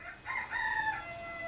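A rooster crows nearby in one drawn-out call with a rising then falling, slightly strained tone, clear and unaccompanied by talk.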